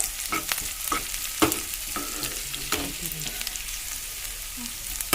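Chopped garlic fries in a pan until browned, giving a close, soft sizzle with scattered clicks of stirring at irregular intervals, fairly quiet and without talk.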